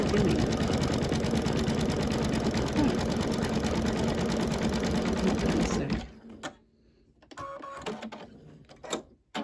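An embroidery machine stitches a design onto a bathroom towel, its rapid, steady needle chatter running loud for about six seconds before stopping, followed by quieter handling noises and clicks.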